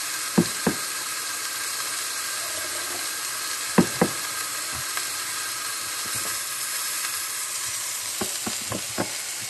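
A burger patty sizzling on a small grill, a steady quiet hiss of frying grease punctuated by a few sharp clicks and taps of a utensil.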